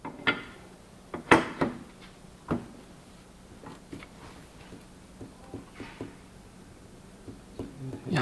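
An intake camshaft in the cam carrier of a 2015–2016 Kia Sorento is rocked by hand, producing a series of sharp, close metallic clicks and taps at irregular intervals, with quiet room noise between them.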